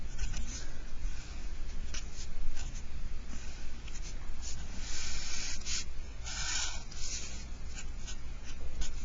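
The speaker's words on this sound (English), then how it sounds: "I'm going to go ahead and draw a picture." A pen scratches steadily across paper as a diagram is drawn, with close, continuous rubbing and short strokes that go on for about nine seconds.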